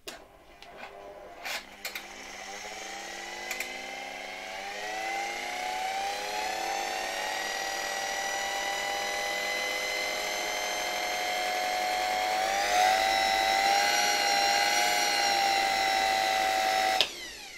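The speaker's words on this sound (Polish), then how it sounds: "Ten silnik działa bardzo fajnie." An Electrolux V vacuum cleaner motor, removed from the machine, whines up to speed and holds a steady high-pitched hum, rising in pitch once more near the end before cutting off.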